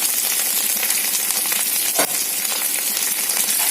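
Curry leaves and green chillies sizzling in hot oil for a ridge gourd curry, a steady loud crackling hiss with one sharp pop midway, alone without talk.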